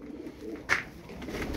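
A Çorum naked-neck pigeon gives a single brief coo, near and clear against a low, steady background.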